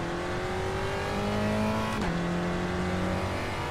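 Simulated race car in iRacing powered by a naturally aspirated 1.6 liter Ford Pinto four-cylinder, engine droning steadily with a brief dip in pitch at a gear change before settling to a constant tone, close and loud, no speech.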